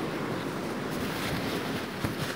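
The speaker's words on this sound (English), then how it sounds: "it's a bit windy out here" Steady wind blowing across a beach on St. Lucia, a continuous broadband rush with soft surf-like swells and gusty microphone buffeting throughout, fairly loud and without speech.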